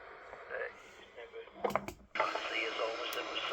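A radio receiver, either an AOR AR5000+3 or an Icom IC-R8500, plays a received voice with its audio peak filter switched off. The hissy, band-limited speech is broken by a couple of brief clicks and then resumes steadily.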